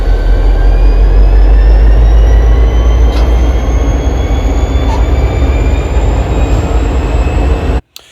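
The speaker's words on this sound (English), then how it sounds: "you will have a nice model train clip with real sounds" A small model train runs steadily with a loud continuous rumble and faint wheel squeal, then cuts off abruptly near the end.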